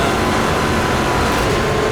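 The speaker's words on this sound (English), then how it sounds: "God, don't you just love the sound of this truck?" A truck engine in the off-road racing video game Motorstorm: Monument Valley roars steadily at high revs, a dense loud drone with road rumble and no talk.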